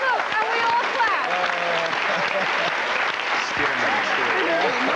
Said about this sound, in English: we all clap.